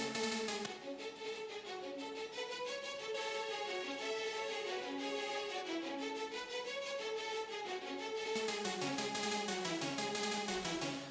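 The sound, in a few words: hybrid string spiccato layered with sharp fast synth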